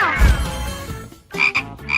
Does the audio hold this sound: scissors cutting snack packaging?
no